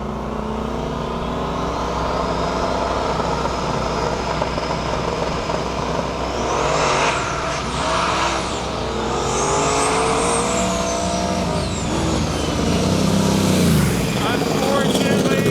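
A Fox body drag race car makes a full qualifying pass at a drag strip, its engine howling loud and sustained as it launches and shifts, with the rising pitch sweeping across the run.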